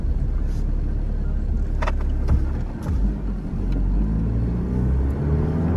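Car interior on the road with a steady low rumble of engine and tires, moderately loud throughout, with a few faint clicks and thumps over it.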